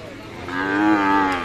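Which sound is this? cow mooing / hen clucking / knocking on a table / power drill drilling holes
cow mooing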